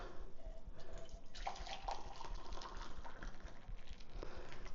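Hot water pours into canning jars to bring them up to boiling temperature before filling, making a steady close splashing gush with a shifting pitch as the jars fill.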